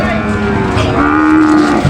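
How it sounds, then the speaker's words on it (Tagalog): Cattle at the Lucena livestock auction market moo loudly and close, one long sustained low call shifting in pitch, over a busy background hum. "Meron po dito mga pinaparada mga baka."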